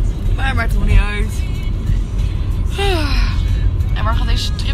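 Steady low engine and road rumble from inside a car on a road trip out of the Netherlands, a constant drone beneath people chatting and exclaiming in Dutch.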